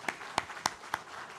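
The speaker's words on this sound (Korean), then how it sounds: "박수 환영하겠습니다." A church congregation gives brief welcoming applause during a Sunday service, four distinct sharp claps spaced evenly, fairly faint and distant.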